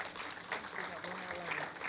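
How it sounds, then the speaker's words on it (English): Audience applause at a museum docent guild's 50th anniversary celebration, a steady patter of clapping that fills the short moment at moderate distance. "Let us clap for that list."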